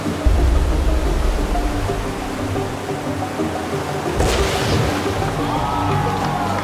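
Ocean surf at Hossegor, a steady broadband wash of breaking waves that swells louder partway through with a crashing break, continuous and close.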